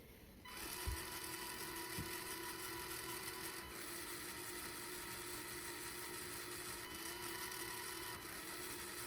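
The wheel motors of the DriveWire V1 robot run with a continuous, faint, even electric whine and hum that holds steady for several seconds after a brief start. No one speaks.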